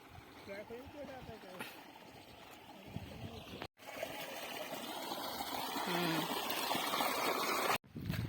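Irrigation water runs and trickles steadily through an onion field, a continuous flowing wash with occasional voices and background activity nearby.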